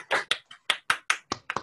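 A few separate, sharp hand claps at the close of an academic lecture on Monte Carlo simulations in medical physics, about eight distinct claps at an uneven pace, close and fairly quiet, with no talking.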